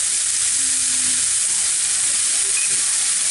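Boiled kidney beans and salsa frying in melted butter in a pan, a steady close hiss and sizzle with no talking.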